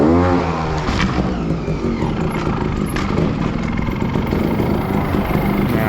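Sherco trials motorcycle engine revving in first gear, a loud close continuous drone with rising and falling harmonic tones and a bit of wind rush.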